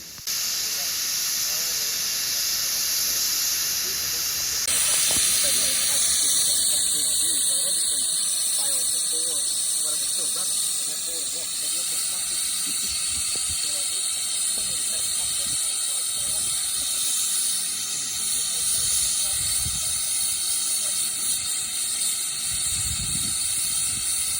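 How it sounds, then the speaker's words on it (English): A Peckett steam locomotive vents steam with a loud, steady hiss and a high squeal that run without a break, sharpening partway through, while low rumbling sounds continue underneath. "it did provide for some interesting footage of the Peckett with lots of steam coming from it"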